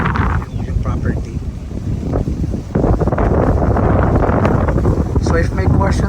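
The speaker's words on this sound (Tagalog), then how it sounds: "Sobrang presko po at mahangin sa location na to ng Pelican Cliff." Steady wind on a hilltop at Pelican Cliff in Binangonan, Rizal rumbles and buffets the microphone throughout, growing louder and rougher partway through, with no other clear sounds.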